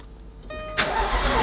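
A car engine cranks briefly with a whirring starter, then catches and fires into a loud, steady idle; the car has covered 54,000 miles.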